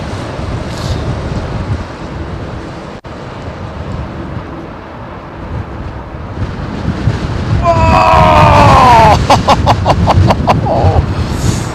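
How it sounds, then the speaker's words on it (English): Strong southwesterly crosswind at London Heathrow buffeting the microphone with a continuous gusty rumble that builds toward the end, where a voice briefly speaks. "Winds intensifying, winds intensifying."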